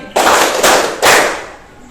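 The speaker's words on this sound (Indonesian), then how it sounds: "Tepuk tangan 3 kali." Class of pupils clapping hands in unison on instruction, two or three sharp, loud group claps spaced about half a second apart, then a quick fade.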